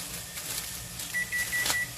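A kitchen timer beeps during pasta cooking for stuffed shells, a thin repeated electronic tone sounding several times over the second half of the clip at moderate level above a low background hum.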